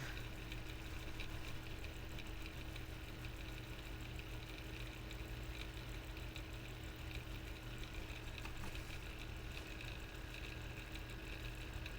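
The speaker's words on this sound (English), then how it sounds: "You know, it isn't silent, this rattly fume extractor" A rattly fume extractor runs steadily for the whole stretch, a constant motorized hum with a faint mechanical rattle and broadband whoosh, unchanging and close by.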